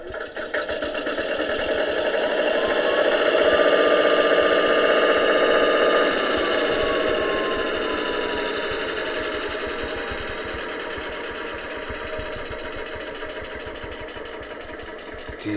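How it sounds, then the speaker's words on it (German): Auxiliary diesel sound from a 1:32 gauge 1 model V 160 diesel locomotive (class 216), a steady, continuous engine idle with a buzzing rattle that holds at an even level, swelling slightly early on and then easing off. "Die nächsten Geräusche sind der Hilfsdiesel."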